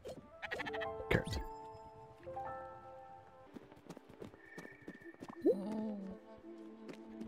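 Sheep bleat in the video game Spiritfarer, a few short calls mixed with other soft game sounds and effects, fairly quiet overall.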